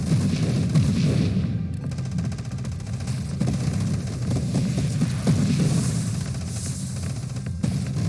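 Turret missiles fire repeatedly in the space shooter Nova Drift, a dense, continuous barrage of thumping blasts and booms layered over game music.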